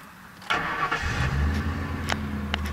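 A 1996 Ford Crown Victoria police package V8, fitted with a new starter motor, cranks briefly and fires up, then settles into a low, steady idle rumble close by.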